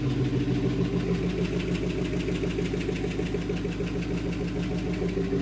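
Close-up idle of a 2005 Chevy Tahoe engine, a steady low drone carrying a rapid, regular tick throughout, with no voices.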